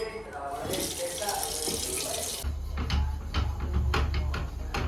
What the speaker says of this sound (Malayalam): അപ്പം ഇത് കഴുകി നമ്മുടെ കാര്യങ്ങളൊക്കെ ചെയ്യാം. പാനൊക്കെ കഴുകി വെക്കാം.